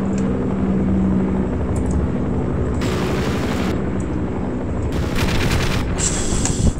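An attack helicopter shoots at the player in Half-Life over a steady roar of noise, with two harsh bursts of fire standing out near and loud.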